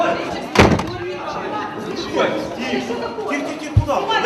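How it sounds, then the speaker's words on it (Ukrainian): A door slammed shut with full force at a heated parliamentary committee meeting in a hall, two loud bangs cutting through continuous agitated voices and shouting in a crowded room. "зачинили з усією силою двері перед носом частини журналістів, що лишилися у залі"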